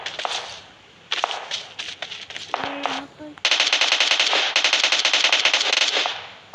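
Bursts of automatic gunfire from the BGMI battle royale game, rapid rattling volleys that start and stop, then a long sustained stretch of continuous fire, loud and close.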